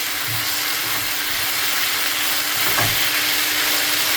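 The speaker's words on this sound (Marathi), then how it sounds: "मातशें हितून टॉसिंग करून घेता. पळय कलर बा तो स्टर फ्राय वेज" Vegetables stir-frying with salt and pepper in a hot pan, a steady loud sizzle and hiss running throughout, with faint tossing and stirring knocks underneath and no one talking.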